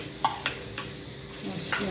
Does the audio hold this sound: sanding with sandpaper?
no